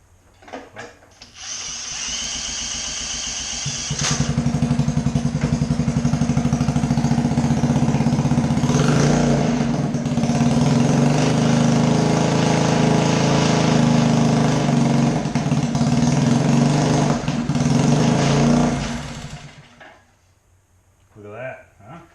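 A Honda CT70H Trail small motorcycle engine, being revived with little throttle, catches and runs with a loud, rough, buzzing idle for about fifteen seconds before cutting out, with brief talk at the start and end.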